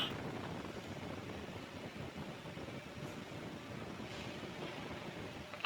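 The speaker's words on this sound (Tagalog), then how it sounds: "Malakas kasi hangin." Strong wind buffets the microphone in a continuous low roar high on a seven-storey pagoda tower in Yuen Long Park, Hong Kong, with faint broadband rushing and no voices.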